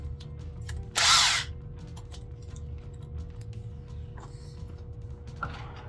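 A power drill on a shoe rack gives one short loud whir near the start, followed by faint creaks, clicks and handling noises, close and otherwise quiet.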